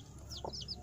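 A Joper hen, a cross of a Bangkok rooster and a laying hen, gives a short, faint cluck in a yard, with quiet background ambience and some soft chirps around it.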